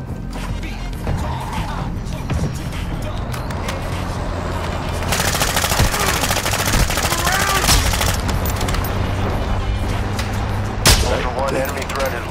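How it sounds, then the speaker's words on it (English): A friendly mortar strike in a video game pounds the area: heavy explosive blasts and rumbling impacts build into a dense barrage midway, followed by another sharp boom, amid continuous gunfire and voices talking over it. "Friendly mortar strike inbound"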